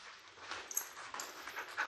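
A female dog on a leash during impulse-control and leash-walking training pants quickly and whimpers in short, high, nearby bursts, fairly soft, with no talking.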